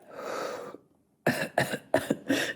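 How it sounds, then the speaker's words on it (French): A person with a painful back coughs: one muffled, held cough, a short silence, then a quick series of four sharp, close coughs in a row. "J'essaie de tousser comme ça pour pas avoir mal au dos"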